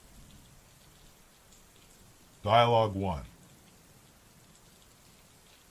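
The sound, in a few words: rain falling in traffic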